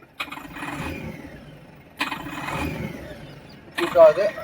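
A Tata Mega diesel engine with a misfire and low-pickup fault is revved in three short bursts, each rising and then dropping back to a rough idle, heard up close.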